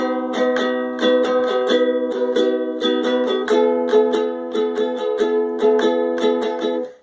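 Verse chords of a song strummed on a ukulele, steady rhythmic strokes with ringing chords, close and clear with no voice.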